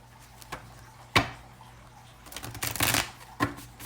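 Tarot cards being shuffled by hand at close range, a few soft isolated flicks followed by a short riffling burst and one more crisp snap, quiet overall in a still room.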